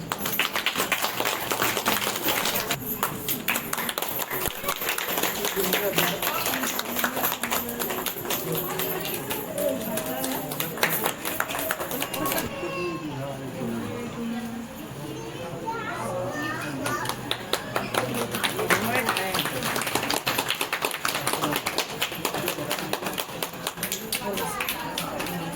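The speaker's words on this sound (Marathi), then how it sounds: "टाळ्या होऊन जाऊ द्या." Applause from an audience at a felicitation ceremony for novice Buddhist monks at a vihara: dense, continuous clapping that fades briefly midway and then swells again, with children's voices and chatter mixed in.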